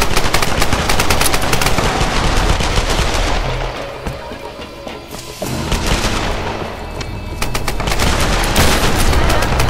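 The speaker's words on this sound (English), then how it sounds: "Whoa, bullets flying" Heavy gunfire in a Tomb Raider multiplayer match, loud sustained automatic bursts and booming shots that ease off briefly in the middle before firing resumes just as intensely.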